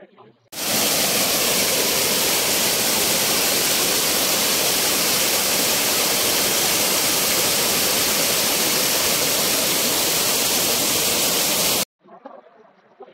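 Ratnaganda Waterfall in Nayagarh, Odisha, roaring as water falls over rock: a loud, steady broadband rush that starts abruptly and holds constant, then cuts off to quieter ambient sound.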